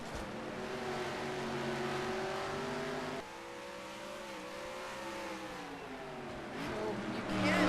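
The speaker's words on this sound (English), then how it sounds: "pace car will be coming out onto the racetrack, but Zach Buchanan is the leader." Race cars in a sim racing game on the Infineon track, a continuous engine drone with shifting pitch as cars run under a pace car, loud and steady throughout.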